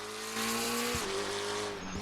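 Lamborghini GT3 race car in the RaceRoom racing game, heard from outside: a loud sustained engine tone whose pitch dips mid-clip as it shifts or lifts, then holds steady again.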